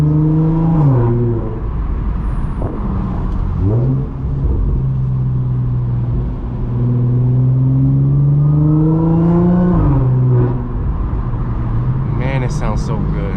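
Audi S4 B8.5 with an AWE exhaust and test pipes, engine revving in long rising and falling sweeps with a deep rumble, loud and close, with a person talking over it.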